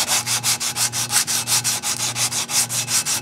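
Truck body work being sanded with 180-grit sandpaper: quick, regular back-and-forth rasping strokes, about five per second, close and loud, with a faint steady hum beneath and no talking.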